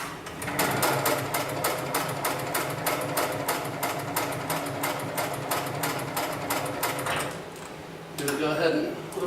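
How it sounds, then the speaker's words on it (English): A 733CS sewing machine stitching in a fast, even rhythm for about seven seconds, then a brief mechanical whir and click as its automatic cutter snips the thread; a voice talks over it. "I'm just going to snip this thread off right here."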